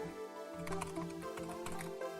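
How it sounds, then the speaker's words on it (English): Light, rapid clicking of a computer keyboard being typed on quickly, faint and continuous in the background behind steady game music. "You can hear my keyboard clicking wildly in the background here."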